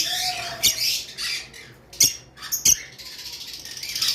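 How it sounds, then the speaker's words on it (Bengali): A pair of caged farm birds give sharp, squawking calls in several short bursts, close and fairly loud, separated by brief quieter gaps with faint chatter. "আর খুবই সুন্দর একটা জোড়া পাখি, এই যে দেখতে পাচ্ছেন।"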